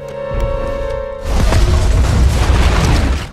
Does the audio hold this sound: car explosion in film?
yes